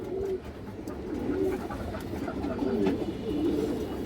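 Pigeons of a fancy breed with a feathered pattern coo repeatedly at close range, a steady run of low rolling calls over a continuous hum, with no talking.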